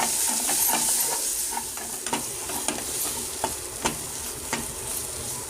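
Onion-garlic masala stirred and fried in a pan, a continuous sizzle punctuated by sharp clicks and scrapes of a spoon against the metal, close and fairly loud.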